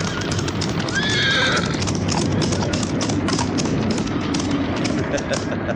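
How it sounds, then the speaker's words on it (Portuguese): A herd of horses on a ranch, with one loud whinny early on and continuous clip-clopping hooves throughout, under a voice speaking. "Temos o mais belo rebanho de cavalos de toda a região."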